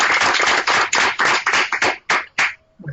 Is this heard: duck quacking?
no